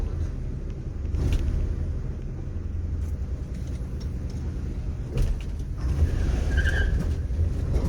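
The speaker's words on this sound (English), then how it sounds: "Spun a little bit of wheel there." Mercury Cougar rumbling as its wheel spins, a heavy low engine drone with tire noise and scraping, steady and close throughout with a few brief rises.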